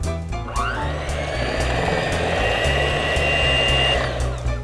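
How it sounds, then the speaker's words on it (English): An electric mixer whirs loudly and steadily for several seconds, beating a large pack of vanilla instant pudding into two cups of milk, with a brief rising spin-up at the start and a fairly constant hum after. "take your mixer."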